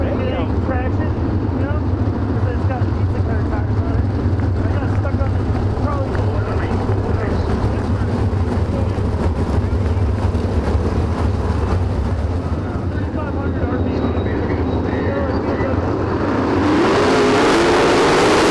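Late model race cars roaring around Ohio Valley Speedway, a steady blended engine drone with wind buffeting the microphone, faint voices underneath and a rising surge near the end.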